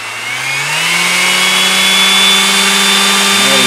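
NARBELL random orbit sander, 3.0 amp 360 W, spun up to its full 14,000 RPM, giving a loud steady whine that rises in pitch as it speeds up, close by with no talk.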